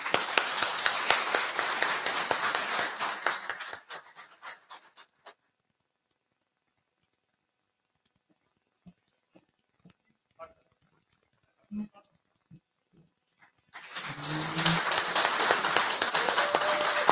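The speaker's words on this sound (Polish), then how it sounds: "Wielkie brawa." An audience at a rescue-medicine symposium ceremony in Grudziądz applauds, a few seconds of thick clapping that stops into near silence with scattered small knocks, then a fresh round of applause rises near the end.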